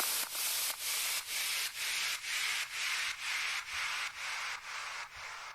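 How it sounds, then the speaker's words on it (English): Stutter drop effect for an EDM track: a bright, noisy whoosh chopped into rapid, regular pulses about every half second, holding steady and loud throughout with no voices. "Perhaps a stutter drop would be quite good."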